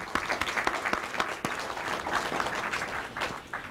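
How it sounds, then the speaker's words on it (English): An audience at a college event claps in a dense, sustained round of applause, many hands at once filling the room steadily for several seconds, with a few louder individual claps standing out. "so give yourself a hand."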